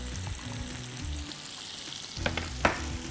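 Chicken sizzling in hot oil in a pan, a close steady fry with a few sharp stirring knocks near the end, short and continuous.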